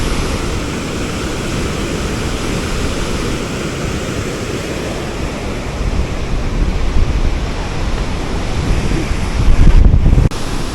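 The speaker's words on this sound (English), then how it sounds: "You can see the waterfall from here, how big it is. Pretty powerful." A powerful waterfall in Baños, Ecuador, roars as a steady, loud broadband rush that swells slightly near the end, with wind buffeting the microphone.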